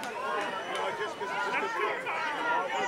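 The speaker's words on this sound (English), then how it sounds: "Listen to these disgusting fans chant for Parker Lee." Wrestling fans at a DWA Splash Bash show chanting for Parker Lee, a dense crowd roar of massed voices filling the arena continuously and fairly loud throughout.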